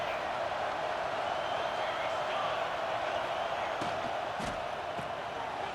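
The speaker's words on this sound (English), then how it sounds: "This crowd bringing the energy and noise early." Stadium crowd in a football video game, a steady, dense roar of many voices that stays level throughout, with a few brief sharp thumps near the end.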